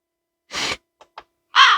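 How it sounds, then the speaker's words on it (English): A crow caws loudly and close by, one harsh call, then two brief clipped sounds, and a final strident caw, each standing alone in silence. "That crow! Get out of here!"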